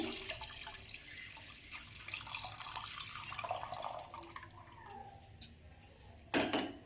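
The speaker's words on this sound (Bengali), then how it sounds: "দিয়ে দিচ্ছি দুধটা আমি 1 লিটারের মতো নিয়েছি।" About a litre of milk poured into a pan of fried vermicelli over a low gas flame: a faint, steady trickle and drip that gives way to a sharper splash near the end.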